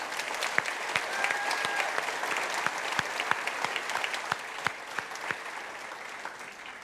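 A commencement audience claps steadily for a group of young performers, with sharp, sustained applause filling the hall and individual claps standing out, no talk over it.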